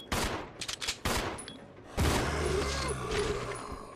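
Bursts of rapid gunfire crack through the video game Resident Evil Zero in several close, loud volleys, with brief pauses between and game noise continuing underneath.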